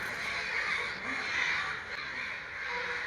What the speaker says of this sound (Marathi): मंदिराच्या वर तुम्ही बघू शकता की मोठे कावळे बसलेले आहे